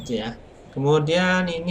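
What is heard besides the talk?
No everyday noise stands out behind the speech.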